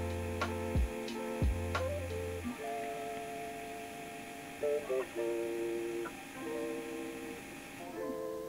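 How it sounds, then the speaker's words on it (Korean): An Acaia Orbit coffee grinder motor idles at 1500 rpm without grinding, giving a steady high whine with a few faint clicks and bumps near the start. "지금은 그라인딩이 되지 않는 공회전 소음을 들려드리고 있기 때문에"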